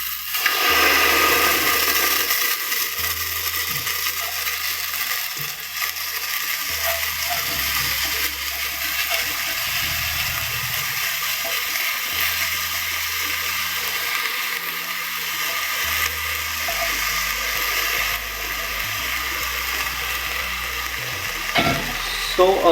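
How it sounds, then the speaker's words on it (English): Washed rice and moong dal tip into a pot for dal khichdi, then a spoon stirs them, giving soft scraping, rustling and gentle sizzling that carries on steadily at close range with no talk. "Now we will add in the washed rice and the moong dal."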